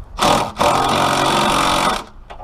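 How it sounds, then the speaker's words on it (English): An impact wrench tightens the transmission mount bolts on a 2008 Chrysler PT Cruiser 2.4 L non-turbo, giving a brief rattling burst, then a longer steady hammering run of over a second, and a faint short tap at the end, loud and close. "This impact doesn't put up a lot of torque, so it may sound bad"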